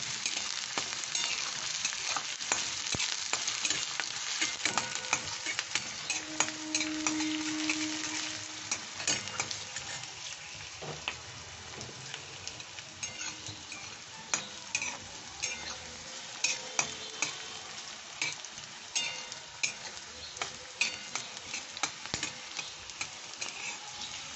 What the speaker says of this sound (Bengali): পেঁয়াজটা আমি খুব ভালো করে ভেজে নেব।